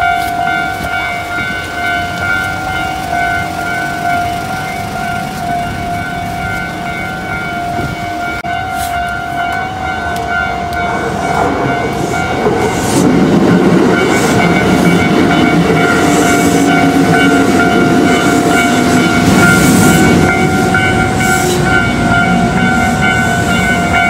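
A train running on rails near Nagoya in Japan, a continuous loud rumble with steady tonal whine throughout, swelling louder midway, with no talk.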